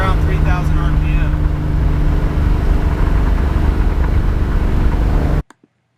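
A car engine held around 2800 to 3000 RPM drones loud and steady, a close, constant mid-pitched hum that cuts off abruptly near the end.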